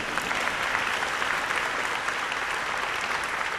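Audience applause at a university Founders Day address, a steady, even wash of many hands clapping that holds at a constant level from start to finish, with no voices standing out.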